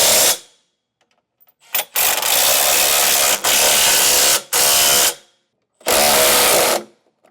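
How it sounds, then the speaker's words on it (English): An impact tool rattles in several loud, close bursts of varying length separated by brief silences, tightening 3/4 inch bolts on a TowSmart trailer hitch receiver under a 2018 Honda Odyssey. "Now we'll get these tightened down."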